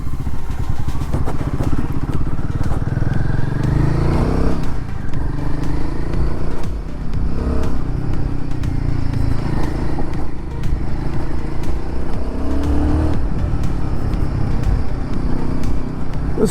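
Royal Enfield Guerrilla 450 motorcycle engine running steadily on a test ride, a loud, continuous close-up rumble with some clatter and shifts in pitch throughout.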